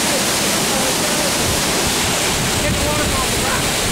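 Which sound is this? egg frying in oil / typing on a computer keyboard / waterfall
waterfall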